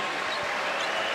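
Basketball arena crowd at a Marquette versus Dayton NCAA game applauding a player as he leaves the court, a dense, steady roar of clapping and cheering filling the whole moment.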